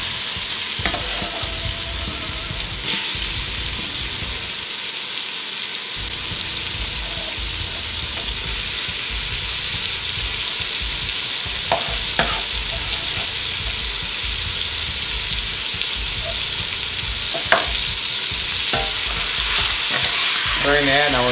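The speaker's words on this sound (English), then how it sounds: "now we're going to just brown up the onions nice" Onions for a venison goulash frying and being stirred in a pan, a steady loud sizzle running throughout with occasional scrapes and knocks of the stirring utensil, no talking.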